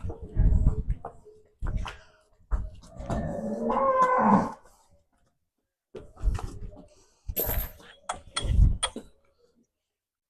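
A buffalo's moo rises between bursts of nearby talking, one drawn-out low call set among several voices at a livestock sale.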